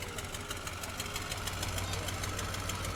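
An old Oliver 2255 tractor rolls past in a county fair parade, its engine giving a steady low drone with a rhythmic knocking pulse, moderately close and even throughout.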